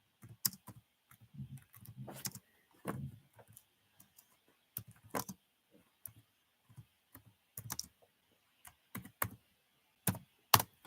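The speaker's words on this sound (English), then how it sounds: "Let me get it typed in." Typing on a computer keyboard in scattered bursts of sharp, close clicks with short pauses between, quiet and without any talk.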